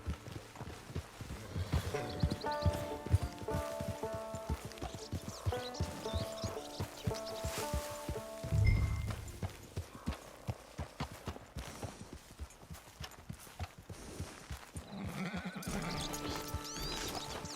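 A horse in Red Dead Redemption 2 moves with rhythmic clip-clopping hooves, close and steady, and lets out a whinny partway through, with a heavy thud and other game sounds mixed in.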